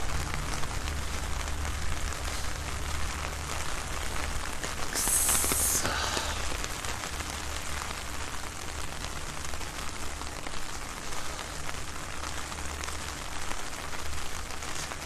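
Steady rain falls outdoors on a walk from Takao Station toward Shinjuku, a dense, continuous hiss close by that holds an even level the whole time, with no talk.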